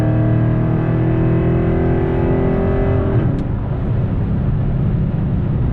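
Dodge Charger or Challenger 392 V8 revving hard under full throttle after a downshift, a loud steady engine roar with rising harmonics that breaks into broadband rumble about halfway through, close and continuous with no talk.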